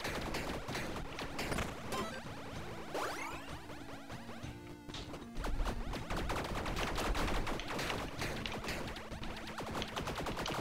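Rapid, dense video game gunfire from a weapon in Tiny Rogues, a relentless stream of sharp shots and impacts layered with whooshes and explosive bursts, loud and continuous across the whole stretch with no talking.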